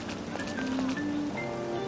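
Rain falls steadily in the Persona 5 video game, a continuous soft patter with a few faint tonal chimes from the game over it.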